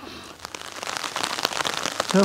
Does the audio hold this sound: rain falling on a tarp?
yes